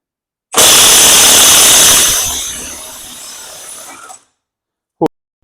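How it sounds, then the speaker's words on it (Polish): A Milwaukee M18 FHIW2F12 cordless impact wrench hammers hard while unscrewing a bolt, starting with a loud burst and easing off over about three and a half seconds before stopping, followed by a short spoken word. "zobaczmy teraz z powrotem Milwaukee, czy poradzi sobie z odkręceniem tej śruby"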